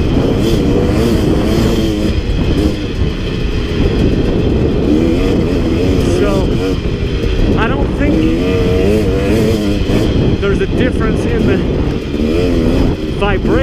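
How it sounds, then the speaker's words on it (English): A 2017 KTM 250 dirt bike engine runs loud and steady while riding, its buzzing drone continuous throughout, with someone talking over it. "I think this bike is running a little better, if I'm dead honest"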